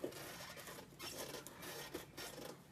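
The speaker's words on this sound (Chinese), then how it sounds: "现在我们先试一下这个螺丝刀" A screwdriver slips on a rusted gas stove screw, producing repeated faint scraping and grinding rasps in uneven bursts, quiet and close, with no voices.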